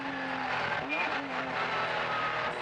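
A Kremer Spyder K8 race car at the 1994 Le Mans 24 Hours roars past with a rising, shifting engine whine and brief tyre squeal, heard under a commentator talking.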